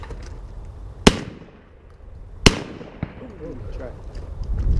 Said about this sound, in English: The second shot with that gun's usually the one you get it with